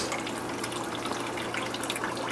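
A Total Pond 500 gallon per hour fountain pump, model MD 11500, moves water in an aquaponic setup with a solar water heater, producing a steady, loud, continuous splashing rush with no talking.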